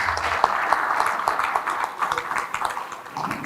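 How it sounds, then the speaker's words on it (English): An audience at a seminar on sustainable development in Nigeria's mining industry breaks into applause, a dense, steady patter of many hands clapping together for the whole stretch, fairly loud and close. "can we give him another round of applause?"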